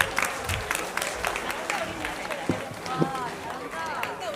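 A church congregation applauding during a Sunday service Christmas program, with a steady patter of clapping from a crowd of moderate size, and a voice speaking over it partway through.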